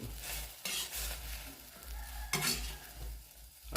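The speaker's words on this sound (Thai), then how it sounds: "น้ำใส่เยอะเกินไป มันเป็นแกงครับท่านผู้ชมแทนที่จะคั่วมแมลงกลายเป็นแกงครับ" Insects stirred in a pan holding too much water, so the intended dry roast turns into a curry; a spatula scrapes and sloshes in several close strokes over a low bubbling simmer, with no voices.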